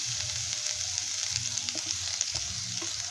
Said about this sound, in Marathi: तूप तापलेलं आहे आपण त्यामध्ये आता हे गाजराचा पीस टाकून घेऊया